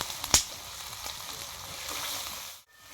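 Turmeric hits hot frying oil for a rustic village-style egg and pointed gourd curry, giving a steady close sizzle and crackle that starts with a sharp pop and cuts off abruptly near the end.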